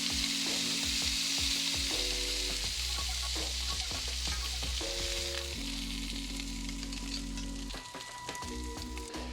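Smash burgers sizzle steadily on a hot griddle, a continuous bright frying hiss with scattered crackles and pops, close and fairly loud throughout, no voices.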